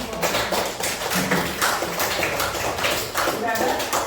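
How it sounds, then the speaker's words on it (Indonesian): A classroom audience applauds together, a sustained patter of many hands clapping at fairly even loudness for several seconds, with voices speaking over it. "Saya kasih tepuk tangan dulu."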